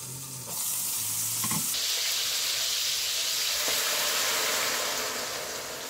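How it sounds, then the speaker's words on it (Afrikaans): Meatballs frying in oil in a pan on a stovetop, a loud steady sizzle that flares up after a brief quieter start with a clink, then hisses on continuously without talk. "Ons braai hulle gou 'n minuut of 2 aan die ander kant voor ek die souse ingooi."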